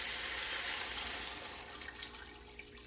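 Water poured into a cooking pot of split peas, a steady rushing splash that is loud at first and then eases into softer, uneven trickling and bubbling.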